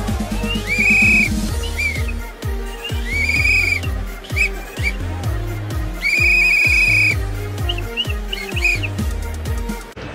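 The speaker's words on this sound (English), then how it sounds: "Gotta blow that whistle." Several sharp, shrill whistle blasts rise and fall over a rhythmic thumping beat, repeating at intervals.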